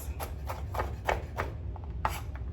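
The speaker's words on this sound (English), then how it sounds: "I like to cut up my garlic in small pieces." Garlic being chopped into small pieces with a knife on a board, a series of about eight crisp, close knocks at an uneven rhythm, with no talk.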